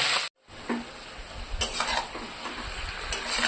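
Vegetables being stirred in a frying pan for a Bengali fish-head chhechra: a steady sizzle with scraping spoon strokes against the pan, close and continuous.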